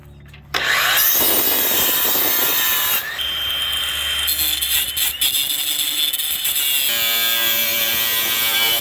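A saw cuts 8-inch lengths of pipe for irrigation bubblers, a loud, steady rasping drone that runs almost the whole time with a short break near the middle. No one speaks.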